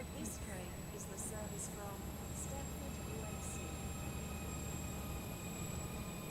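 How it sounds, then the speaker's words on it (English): A train rolling in to a platform in the railway game Stepford County Railway, a steady rumbling drone with faint high squeals and tones throughout, heard near with a voice speaking over it. "The train now approaching platform C."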